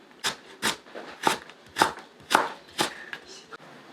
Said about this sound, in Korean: 당근 4분의1 정도만 썰어주겠습니다.